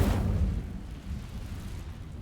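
A fire spell ignites dry vines in Hogwarts Legacy, a deep rumbling whoosh of flame bursting loud at first, then settling into a steady low crackling roar.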